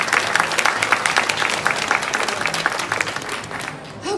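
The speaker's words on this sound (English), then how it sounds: "Big round of applause for Nikki." A conference audience claps in a sustained, dense round of applause, steady and close for several seconds before tapering off at the end.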